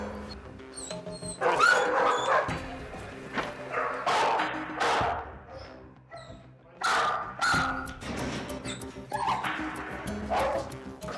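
A Boston police K-9 dog barks and yips in repeated loud bursts at a law enforcement museum exhibit, with whimpers between barks and someone speaking over it.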